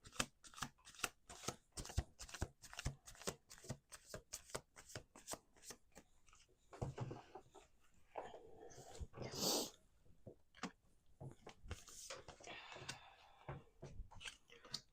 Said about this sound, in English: we're gonna do two more shuffles